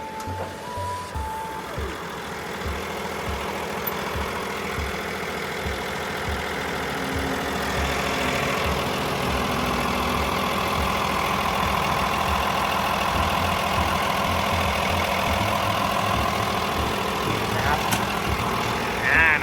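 A Komatsu WA470-8 wheel loader's engine idles steadily throughout, with a low, throbbing diesel drone that stays constant and fairly close.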